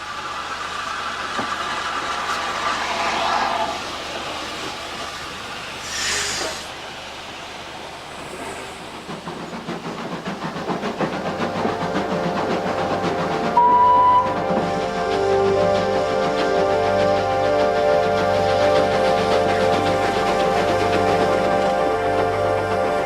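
A steady, heavy engine rumble with rattling machinery, a constant loud drone that shifts partway through and continues without speech.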